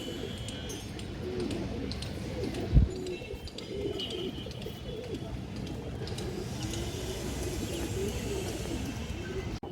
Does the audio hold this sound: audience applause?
no